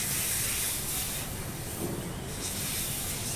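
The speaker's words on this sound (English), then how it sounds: "release the air from the bottle by opening the valve." Air hisses steadily out of a bottle through an opened valve, a loud continuous rush of escaping air that lasts throughout.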